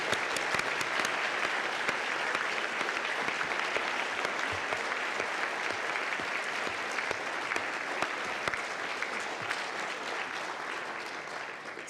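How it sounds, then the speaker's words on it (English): An audience at an advance care planning event claps long and loud, a dense, sustained wash of applause from many hands that carries on without a break. "if we can just do a massive clap, just literally for everyone today."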